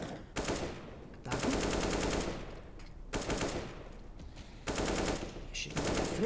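Gunfire in Counter-Strike on the Overpass map during an ECS Season 3 match, bursts of rapid automatic shots separated by brief pauses, loud and close, with commentary faintly underneath.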